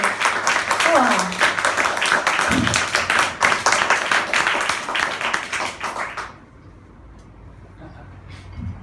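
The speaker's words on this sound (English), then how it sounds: "another round of applause for Heidi, please" An audience at an open-stage studio night claps for a performer, loud dense applause with voices mixed in, which then cuts off fairly abruptly to quiet room murmur.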